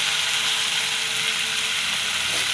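Pre-fried potatoes sizzling loudly in a pan of well-cooked spice paste releasing oil, a dense continuous crackle of frying with no voices.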